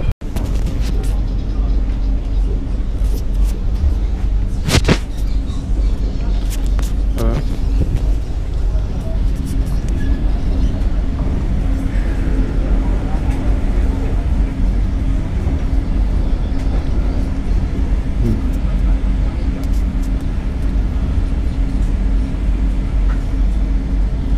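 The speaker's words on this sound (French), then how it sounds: "Du coup là, je suis dans le tramway." Inside a moving tram in Rome, a steady low rumble and rattle of the car runs throughout, with a few sharp clicks and knocks, while a voice talks over it.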